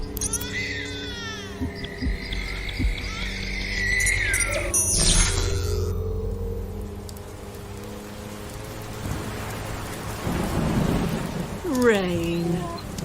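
Rain and thunder effects in a Twilight Zone radio drama, a steady wash of rainfall with rolling thunder swelling in the middle and later, mixed with other effects and people speaking over it.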